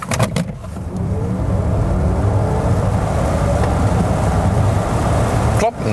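Mercedes EQC electric car accelerating hard to 100 km/h, a steady rising whine with road and tyre roar filling the cabin for several seconds, loud and continuous.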